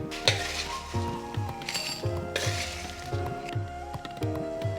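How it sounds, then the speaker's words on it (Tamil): Chili peppers dry-roasting in a pan for Tamil fish kulambu, a light crackling sizzle with regular scraping stirs and soft utensil knocks against the pan, close up and without speech. "இங்கே பாருங்கள், இந்த மிளகாலாம் நல்லா ரோஸ்ட் ஆகிருக்கு."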